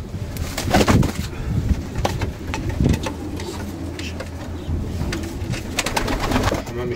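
French meat pigeons coo softly amid a busy flutter of wings and rustling, with a faint insect-like buzz in the background.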